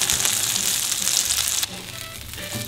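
A Jamaican jerk burger made with good-quality mince sizzles and fries steadily in a pan, a dense close hiss that dips briefly midway as the patty is turned, then carries on with faint clatter.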